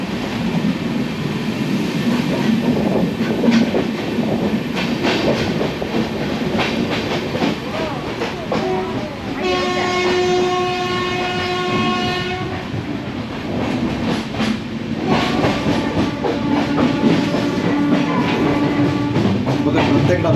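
A passenger train running on the rails toward Chiplun, heard from inside as a constant loud rumble with rhythmic clickety-clack, and a long horn sounding twice.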